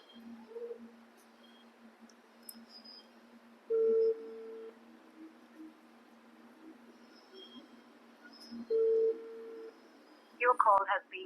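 Ringback tone of a phone call that goes unanswered: two steady, spaced ringing pulses several seconds apart, with faint voices and room noise between them.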